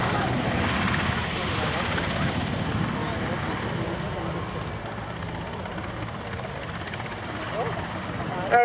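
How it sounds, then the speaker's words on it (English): An Apache attack helicopter heading away during a live-fire demonstration, its broad rotor and engine roar steady and fairly loud throughout, with faint voices underneath. "I want you to see if you can try and keep your eyes on the Apache as it heads off"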